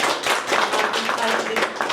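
Applause and clapping from a crowd at a political speech, dense and steady at moderate loudness, with faint voices mixed in.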